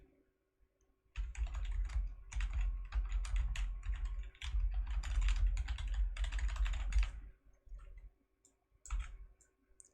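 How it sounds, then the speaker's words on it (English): Fast, steady keystrokes rattle on a computer keyboard during an online match, dense clicking bursts with brief pauses, close and fairly loud with no talking. "I'm going to just start typing the wave message."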